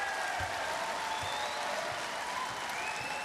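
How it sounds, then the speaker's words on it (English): A basketball arena crowd in Ulaanbaatar at a Mongolia v China FIBA Asia Cup qualifier keeps up a steady, dense wash of cheering and clapping that holds at one level throughout. "The crowd, ironically, give it a cheer, as he is public enemy #1 right now here in Ulaanbaatar."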